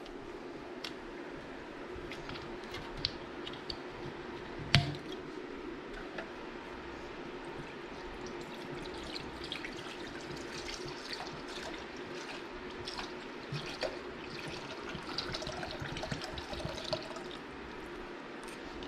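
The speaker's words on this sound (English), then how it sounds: "We're gonna pour the whole thing in the back." Sea Foam cleaner being poured into an engine's fuel, a steady quiet trickle and dribble of liquid with small drips and ticks, one sharper knock near the middle, no talking.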